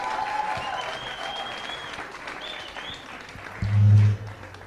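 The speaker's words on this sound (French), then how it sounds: "Applaudissez-le encore plus fort" A crowd applauds at a religious youth event in a francophone setting, a steady spread of clapping with tonal sounds above it and a brief loud low boom near the end.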